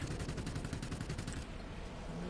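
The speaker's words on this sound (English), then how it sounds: "starts using his rear gunners" Rear gunners on an IL-40P ground-attack plane in World of Warplanes fire rapid, sustained bursts of machine-gun fire, loud and continuous over a dense engine drone throughout.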